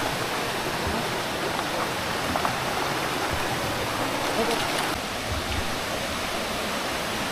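A waterfall at a Mangyan village in Puerto Galera pours with a steady, loud broadband rush, nearby and unbroken, with faint voices now and then.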